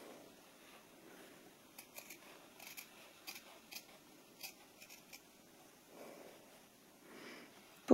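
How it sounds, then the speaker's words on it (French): Scissors cut along a marked line through fabric for a bum bag, a series of short crisp snips with small pauses in a quiet room. "Et ensuite, on va découper le long de cette ligne."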